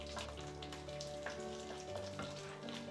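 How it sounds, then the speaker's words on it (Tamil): Vadagam and mustard seeds frying in oil for tempering, making a dense, close sizzle scattered with sharp crackling pops. "இப்போ இது கூட வடகம் சேர்த்துக்கிறேன். தாளிப்பு வடகம். வடகம் சேர்த்துட்டு நல்லா வதக்கிக்கோங்க."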